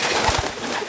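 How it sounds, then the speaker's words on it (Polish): A racing pigeon gives a couple of low, throaty coos close by, short and soft against a faint background hiss. "bardzo dobry gołąb, syn Nacjonala"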